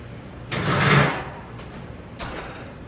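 An oven door swings open with a broad, rumbling creak and scrape as an apple upside down cake is removed, followed by a quieter second clunk near the end.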